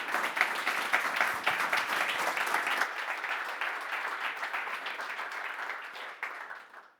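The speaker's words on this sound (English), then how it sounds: "Give a round of applause for Marc Henry, and then we're off." A conference audience at a Neos tech talk gives a sustained round of applause, dense steady clapping that tapers off after about seven seconds.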